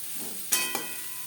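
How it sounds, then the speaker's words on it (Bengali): Fish with grated coconut being stirred in a wok over a medium-low flame: a steady soft sizzle broken by two quick spatula scrapes close together, with no voices. "মিডিয়াম টু লো ফ্লেমে আরও 3-4 মিনিট নাড়াচাড়া করে নেব।"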